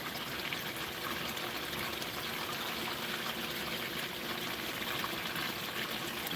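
Water recirculated through a small gold sluice runs and trickles continuously, a steady close splashing wash with no voices.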